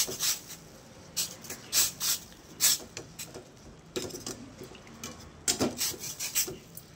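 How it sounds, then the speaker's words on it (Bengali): A ladle stirs kulekhara leaves boiling in a pot, giving intermittent scraping and rubbing strokes in short bursts over a steady low bubbling hiss, close and fairly quiet. "এটা সেদ্ধ হচ্ছে, একটু হাতা দিয়ে আমি নাড়িয়ে দেবো"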